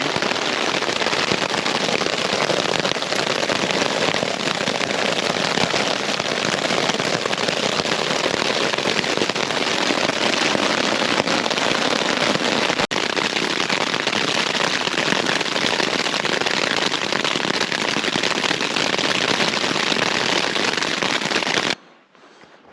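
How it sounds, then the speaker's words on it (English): Hail pelting down during a mountain storm in the Colorado backcountry, a dense, continuous crackling patter at steady loudness for over twenty seconds before cutting off abruptly. "All right, now it's hailing."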